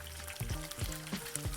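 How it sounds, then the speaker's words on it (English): Oil sizzling steadily in a pan as tofu fries, with soft scraping and clacks of tongs as pieces are turned, close and moderately loud, no talking. "Now we're gonna continue frying and flipping these over every 2 minutes or so"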